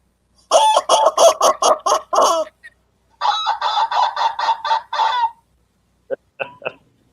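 Rooster crowing and chicken clucking ring out close and loud in bursts: two long runs of calls, then a short pair of clucks after a pause, with no talk.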